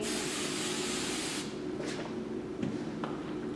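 Hair spray hisses from a can in one sustained burst, followed by a few shorter puffs, close and fairly loud, with no voices.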